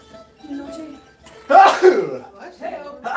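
A person sneezes once, loud and close, during a live studio radio broadcast, with a brief throat-clearing burst and studio voices around it.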